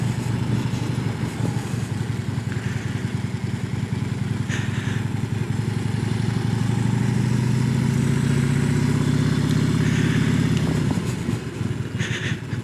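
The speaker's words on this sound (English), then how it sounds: "we get the motorcycle up to speed in first gear, and we're just going to weave smoothly" A motorcycle engine putters steadily nearby in first gear, its pitch rising and falling gently as it weaves at low speed through a line of cones.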